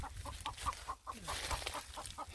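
A hen perched in a banana tree on an agroforestry farm gives a run of soft, evenly spaced clucks, about a dozen in a steady rhythm, moderately faint and close, with no talking.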